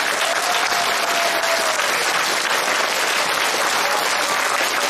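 Steady, dense applause from a school assembly crowd honoring kindergarten and first grade students, loud and continuous throughout with no break.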